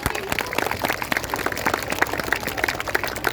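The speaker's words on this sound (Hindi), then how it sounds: "प्लीज एक बार जोरदार तालियां बजा दीजिए भाई।" An audience at a Scout and Guide gathering claps together in a steady, dense patter of many hands that lasts the whole stretch, moderately loud, with faint voices mixed in.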